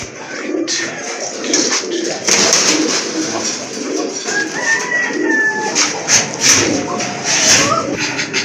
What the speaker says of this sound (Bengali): আরেক জোড়া কবুতর মাশাআল্লাহ দেখতে পাচ্ছেন এখানে, একটা হচ্ছে রেসার কবুতর, আর আরেকটা কিন্তু আপনার গিরিবাজ